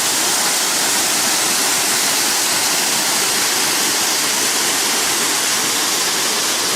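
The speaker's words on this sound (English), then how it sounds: "waterfall, waterfall, waterfall," Sol Duc Falls in Olympic National Park roars as a steady, dense rush of falling water, loud and close, unchanging for the whole stretch with no voices.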